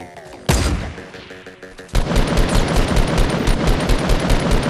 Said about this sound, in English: I downed him from here with an assault rifle